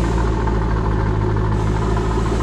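A 2000 Chevrolet Corvette with touring exhaust idles steadily, giving a low, even rumble with constant loudness and no break across the whole stretch.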